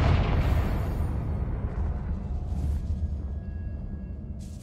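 A Confringo spell blasts through a barrier in Hogwarts Legacy, a loud, booming explosion that opens with a sharp burst and then rolls on as a heavy, rumbling roar, slowly fading over several seconds.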